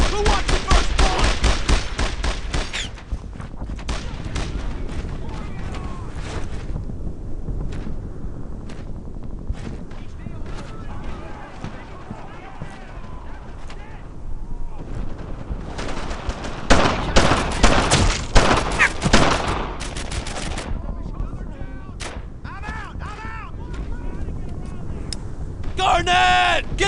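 Rapid bursts of rifle and machine-gun fire from the World War II shooter Brothers in Arms: Earned in Blood, loud and near, with heavy volleys coming in waves while soldiers shout over the battle.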